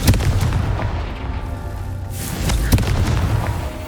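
Confringo blast spell explosions in the video game Hogwarts Legacy, giving several sharp booming impacts with a rushing whoosh in between, loud and close.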